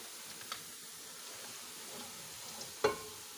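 Quiet, steady sizzling of garlic and ginger frying in oil with golden-brown onions, with a couple of faint clicks and a sharper clatter near the end.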